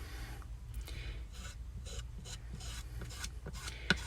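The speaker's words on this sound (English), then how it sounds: "Now I'm just going to take this cute little squeegee, and I'm going to just start at the top, and I'm going to mix them all together." A small squeegee drags craft paint down from the top of a surface, mixing the colors together in a string of soft, raspy scraping strokes, close and fairly quiet, with no voice.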